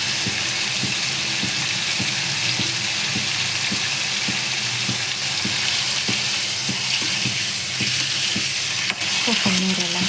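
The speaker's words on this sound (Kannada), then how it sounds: "ಸೊ ಸ್ವಲ್ಪ ಎಣ್ಣೆಗೆ ಹಾಕಿ ಫ್ರೈ ಮಾಡ್ಕೊಂಡು ಅದೊಂಥರ ಟೇಸ್ಟೇ ಬೇರೆ" Paneer pieces fry in oil in a pan while being stirred: a loud, continuous close-up sizzle broken by regular scraping strokes of the spoon, no voices.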